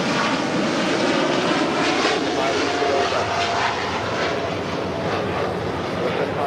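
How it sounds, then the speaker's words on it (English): A Boeing 747-8 freighter jet departs, its engines producing a loud, steady broadband roar that holds for several seconds without letting up. "This is Cargo Lux Flight 43 X-Ray Heavy departing to Luxembourg on a 747-8 freighter"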